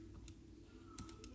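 Faint clicks of keys pressed on a graphing calculator keypad, a few quick taps spaced out over a quiet hum.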